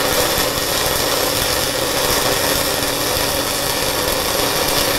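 Stick welding with overheated 6010 and 7018 rods, the arc giving a steady, loud, dense crackling hiss that runs without a break, close up and with no talk.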